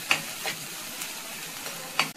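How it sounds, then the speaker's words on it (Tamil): Three cut garlic cloves sauté in a pan with a soft, steady sizzle, marked by a few light stirring scrapes spaced through it, with no one speaking. "அது கூடவே நம்ம கட் பண்ணியிருக்க 3 பல்லு பூண்டு எல்லாம் கொஞ்சம் வதங்கட்டும்"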